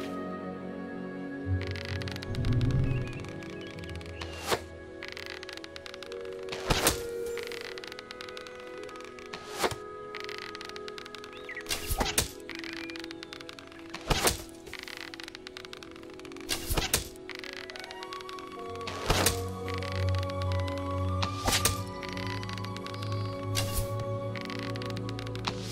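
Arrows loosed from a bow at targets in the Fable: Anniversary video game, a series of sharp thwacks and cracks spaced a few seconds apart over soft background music.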